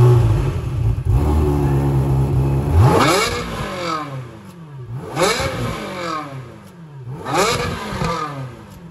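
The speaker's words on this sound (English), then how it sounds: "start it up, give it a couple of revs" A 1999 Ferrari 360 Modena with a warm engine settles from idle into three loud, close revs, each rising sharply and falling back, spaced a couple of seconds apart.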